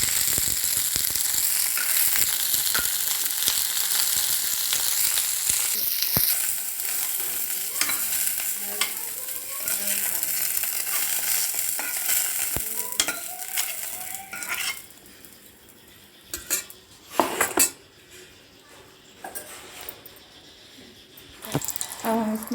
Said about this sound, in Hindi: अभी थोड़ा और इसको भुनने की ज़रूरत है, इसके लिए थोड़ी देर और भूनेंगे।